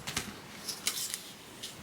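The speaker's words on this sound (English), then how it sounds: "I'm going to cut just a little bit above that line" Scissors make a few quiet, close snips while cutting fabric for a pinwheel quilt block, each one a brief crisp click set against near silence.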